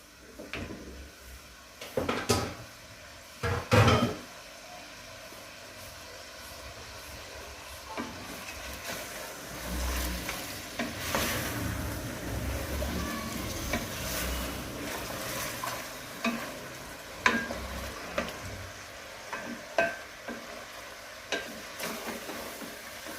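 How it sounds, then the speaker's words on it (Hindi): Chicken frying in a pan for a pea chicken curry, with soft sizzling, occasional stirring scrapes and clatter of utensils in a home kitchen, steady and moderately quiet throughout. "ये चिकन मैं इसमें अभी भून रही हूँ।"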